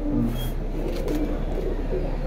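Pigeons of a Palla line breed coo softly in a loft or market setting, low repeated throaty coos over a steady background hum, nearby and moderately loud.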